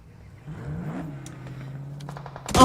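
Car engine revving in the PUBG Mobile video game, a single vehicle whose pitch rises and sweeps, then settles into a steady hum, closing with a sudden loud burst of clatter.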